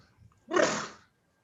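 A single sneeze bursts out loud and close, a short sharp blast lasting about half a second before fading into quiet.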